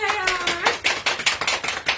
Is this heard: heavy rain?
no